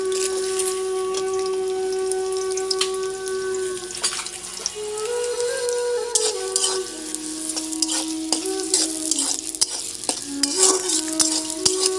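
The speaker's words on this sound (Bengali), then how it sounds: "তেল গরম হয়ে গেছে, এবার আমি পেঁয়াজগুলো দিয়ে দেবো" Chopped onions hit hot oil in a handi pot and sizzle loudly and steadily for the whole stretch, with occasional stirring clatter close by and no talking.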